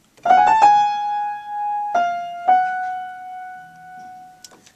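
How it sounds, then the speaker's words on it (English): A short piano phrase: several notes struck in quick succession, then two more sustained tones ringing out and slowly fading, clear and close. "the first phrase in the right hand would sound like this without being a prepared piano"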